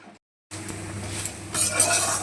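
Jackfruit pieces dusted with cornflour fry in a pan and are stirred. A steady, close sizzle follows a short silent gap and grows slightly louder toward the end.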